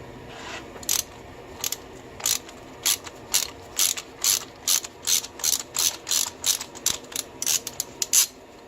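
A ratchet with a socket extension loosens a spark plug on a Mazda Miata engine, giving a steady series of about fifteen sharp, close clicking bursts in an even rhythm with no talk.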